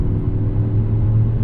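A 2024 Mazda 3 Turbo AWD accelerates on the highway, heard from inside the cabin as a steady low engine drone and road rumble with no talking.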